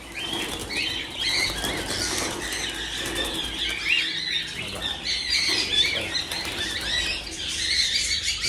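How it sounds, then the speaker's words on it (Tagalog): Small birds at a nest with newly hatched chicks, giving dense continuous high chirps and squeaks with repeated wing flapping, close and steady throughout, no talking. "may sisiw na naman sila mga kaibon o"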